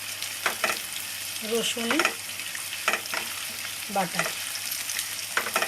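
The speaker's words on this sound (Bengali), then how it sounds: "একটু সুন্দর করে এটা ভেজে নিতে হবে।" Chicken for an Anglo-Indian dak bungalow curry frying in a pan, a steady broadband sizzle with scraping stir strokes at intervals, while someone speaks briefly over it.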